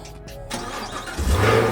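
A car engine cranks and catches, rising from a short mechanical churn into a louder, steady rumble near the end.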